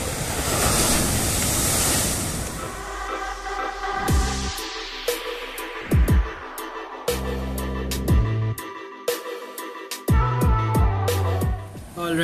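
Sea surf at Digha beach, a broad steady wash of breaking waves with wind buffeting the microphone, loud at first and then partly covered by layered music-like tones in the second half.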